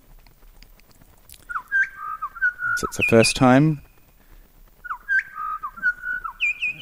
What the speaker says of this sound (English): this is the hermit thrush